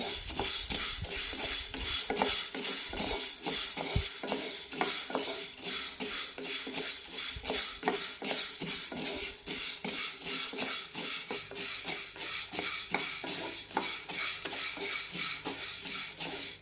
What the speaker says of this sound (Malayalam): മൂന്നാല് മിനിറ്റ് ലോ ഫ്ലെയിമിലിട്ട് വറുത്തെടുക്കാം